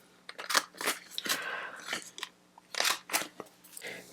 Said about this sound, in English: It's a crocodile corner chomper, and I'm going to use the large angle side.